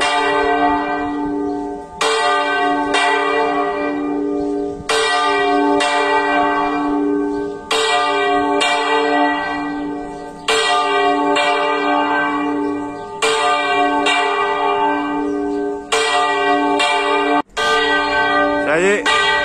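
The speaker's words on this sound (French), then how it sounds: "Regardez la belle cloche." A large church bell behind a church peals loudly and continuously, with repeated strikes blending into a rich, ringing wash that keeps going throughout.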